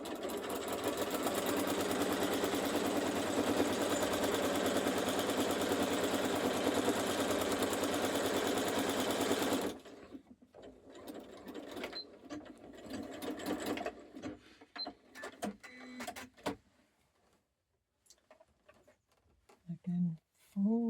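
Sewing machine stitching binding along a quilt edge: a steady, close, rapid mechanical whir for about ten seconds, then it stops and fabric handling rustles and clicks follow, with a voice near the end.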